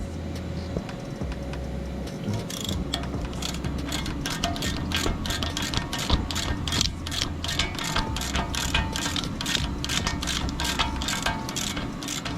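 A hand ratchet loosens an 18 mm upper control arm bolt on a 2007 Chevy Silverado during leveling kit installation, rapid rhythmic clicking strokes repeating close by over a low mechanical hum.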